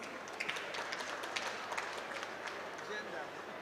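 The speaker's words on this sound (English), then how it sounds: "Let us give our speakers another big round of applause." Conference audience at the Africa Pavilion at COP27 applauding the speakers, a moderate, fairly thin round of clapping with scattered distinct claps over a faint murmur.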